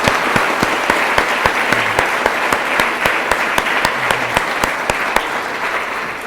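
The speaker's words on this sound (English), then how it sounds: "have a nice round of applause and congratulations" Sustained applause from an audience at a school district retirement celebration, honoring retiring staff; dense steady clapping with sharp individual claps standing out, close and loud throughout with no talk.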